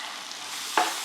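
Curry powder and vegetables frying in oil in a pan on medium heat for a vegan chickpea spinach curry, a steady soft sizzle with one brief louder stir near the end, no talking.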